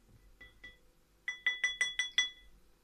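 A utensil stirs liquid in a glass container during a chemistry experiment, giving a few soft taps and then a quick run of six bright ringing clinks, close and fairly quiet.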